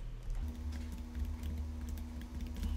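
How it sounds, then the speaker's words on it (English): Typing on a computer keyboard during an eBay account setup, a steady patter of close key taps over a constant low hum, with no talking. "I'm gonna type it in the old school way using the keyboard."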